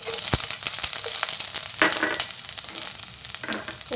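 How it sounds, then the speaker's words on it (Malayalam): Mustard seeds crackle and chopped ginger sizzles in hot oil in a pan, a steady close frying hiss with sharp popping bursts scattered throughout, no voices. "കടുക് പൊട്ടി കഴിയുമ്പോഴേക്കും നമുക്കതിലേക്ക് ഒരു കഷ്ണം ഇഞ്ചി അരിഞ്ഞത് ഇട്ട് കൊടുക്കാം"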